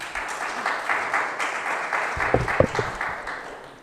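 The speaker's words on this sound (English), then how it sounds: "So please give them a round of applause" Audience applause at a spiritual reunion gathering, steady clapping from a crowd for a few seconds, with a few louder nearby claps toward the end before it tapers off.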